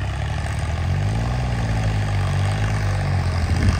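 A John Deere 5105 tractor with a turbo power upgrade, its engine running loud and close with a steady, throbbing low drone that holds for several seconds without any voices.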